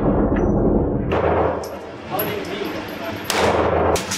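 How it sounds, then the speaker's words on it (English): Gunshots from a hunting gun fired outdoors at squirrels: a few sharp, loud reports, one near the start and a heavier blast late, with people talking in between. "You shot the hell out of that squirrel."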